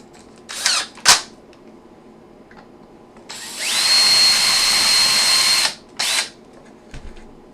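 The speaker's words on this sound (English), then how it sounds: "So now let's drill some holes for these other screws." A power drill bores small screw holes for a sim-racing sequential shifter kit. A couple of brief spins are followed by a sustained whine of about two seconds and another short burst, close and loud, without talk.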